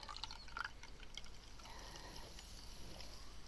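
A canned drink pours into a glass up close, a soft splashing, hissing stream of liquid that is quiet and steady and carries a light fizzy crackle, with no voices.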